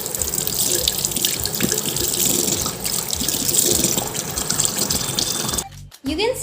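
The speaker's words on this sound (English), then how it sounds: "wash your hand." Tap water runs steadily into a sink while hands are washed under it, a continuous close splashing hiss that cuts off with a few drips near the end.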